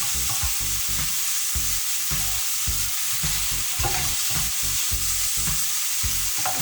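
Onion fries in a pan for Asian fried rice, a loud continuous sizzle with rhythmic stirring or scraping strokes repeating every fraction of a second, close up and without talk.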